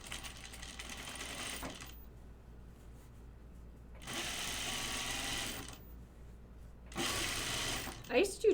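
Sewing machine stitching close to the fabric edge of a button-up shirt in three steady running bursts separated by pauses, loud and close, with a brief voice at the end.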